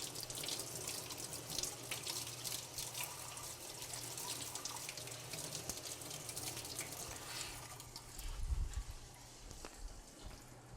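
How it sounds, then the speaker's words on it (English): Cold tap water runs steadily into a sink while leeks are rinsed, a continuous moderate splash with a brief heavier gush near the end. "unfold your leaves under cold running water as you go along and let it rinse all that dirt out"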